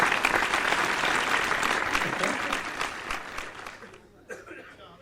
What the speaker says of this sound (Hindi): भाई दिल्ली वालों अपने लिए तालियां बजा लीजिए आप